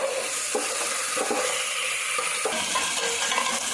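A whole goat head curry sautéing in a pan with a little water, a continuous close sizzle broken by soft scraping strokes of a spoon against the pan, steady and moderately loud without speech.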